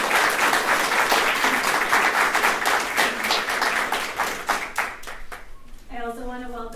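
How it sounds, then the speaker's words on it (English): Audience applause for sixth grade students at a school speech contest, a dense burst of clapping from a crowd that thins into a few separate claps before a voice starts speaking at the end. "If we can please give them a big round of applause."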